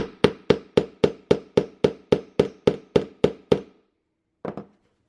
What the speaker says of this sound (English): hammer it together.